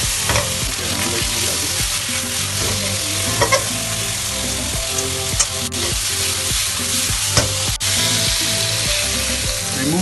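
Beef frying in its own rendered fat for ginger beef char kuey teow, a loud, dense, continuous sizzle with occasional light clinks and stirring scrapes over the top, close and steady throughout.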